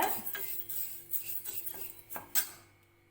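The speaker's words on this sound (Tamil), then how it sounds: "அதை இப்போ கடாயில் சேர்த்துக்கலாம் சேர்த்துட்டு இதை வந்து வறுத்துக்கணுங்க" Raw rice dry-roasted in a kadai over medium heat for Thiruvathirai kali, a spoon scraping and clinking against the metal in irregular strokes, fairly faint and close, with no talking.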